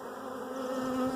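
Honeybees hum in a dense, steady drone around a hive during queen rearing, a close, continuous buzz with a clear tonal pitch and no voices.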